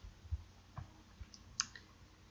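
A computer mouse gives a few faint, sparse clicks in a quiet room, spaced irregularly about half a second apart.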